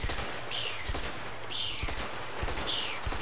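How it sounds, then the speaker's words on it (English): Gunfire effects in the video game A Way Out burst out in loud, close volleys of rapid shots, with several sharp cracks recurring at roughly one-second intervals over a steady background rumble, and no voices. "is my shooting effect, if you can hear that"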